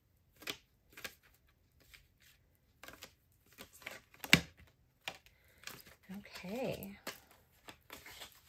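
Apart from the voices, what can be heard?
tarot cards being shuffled and pulled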